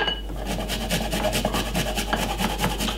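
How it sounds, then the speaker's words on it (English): Garlic grated on a small kitchen grater, a rhythmic series of quick scraping strokes at close range, roughly five strokes per second, with no talk over it. "I'm just going to be grating the garlic on my little grater right here"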